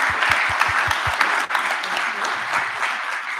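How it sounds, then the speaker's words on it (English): An audience claps for a judge at a hackathon livestream event, a steady wash of applause from a crowd, with a few louder, closer claps at the start. "Let's give her another round of applause."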